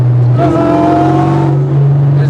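A 2003 Ford Mustang Cobra engine drones loudly and steadily while accelerating, with a thin high-pitched whine rising above the roar from inside the cabin.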